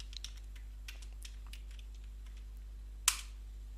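Light, scattered keystrokes on a computer keyboard tap quietly in a quick irregular run, followed by one sharper, louder click near the end.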